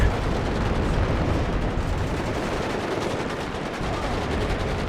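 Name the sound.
machine gun fire in the video game Warno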